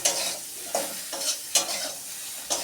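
Squeezed soybean chunks fry in hot oil, a close, bright sizzle punctuated by a few regular stirring scrapes roughly every second, with no talking.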